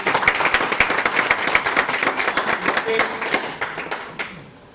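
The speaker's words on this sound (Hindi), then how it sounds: "मैम के लिए दमदार ताली बजाइए।" A network-marketing meeting audience claps for a woman, a rhythmic run of sharp, fairly close hand claps that thins out and stops near the end, with some talk mixed in.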